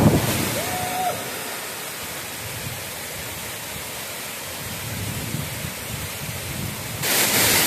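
Jhari Waterfall in Chikmagalur pours in a steady, loud roar of falling water, a dense continuous rush filling the whole stretch with no voices over it.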